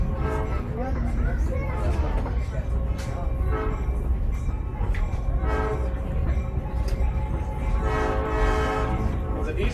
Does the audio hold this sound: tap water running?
no